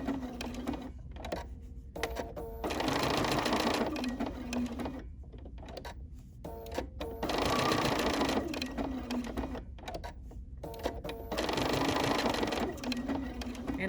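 A sewing machine runs decorative applique stitches on a fabric postcard in three sustained bursts, each a loud, steady mechanical whir, with short quiet pauses between them while the work is pivoted.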